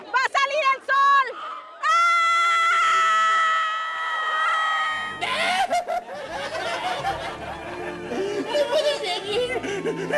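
A crowd outdoors during a solar eclipse shouts and cries out, starting with sharp excited yells, then a long sustained scream, then a jumble of voices and cheering.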